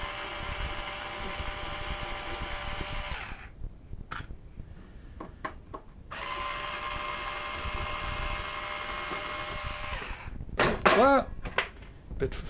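A cordless screwdriver drives screws in two long, steady whirring runs with a motor whine, separated by a pause of clatter and handling, with squeaky tightening sounds near the end and a voice talking at times.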